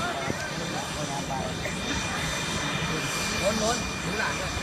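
A military aircraft engine runs at Wing 4 Takhli air base in Thailand, a steady, loud roaring drone that holds level throughout.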